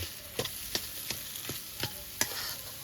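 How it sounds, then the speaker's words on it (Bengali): Boiled potatoes frying with spices, with a soft continuous sizzle broken by a series of regular spatula scrapes and knocks against the pan, close and unaccompanied by speech. "মশলার সাথে আলুটাকে ভেজে নিচ্ছি"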